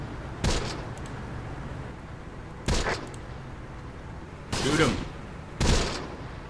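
Machine gun fire in the Close Combat video game, four separate bursts sounding at a moderate distance with quiet stretches of battlefield ambience between them.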